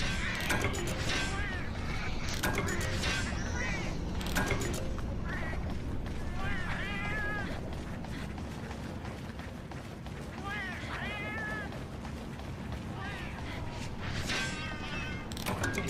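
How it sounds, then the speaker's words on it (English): Cats in the Monster Hunter XX video game give several short, high meows scattered over a dense, steady bed of game ambience and effects. "Oh, there's cats."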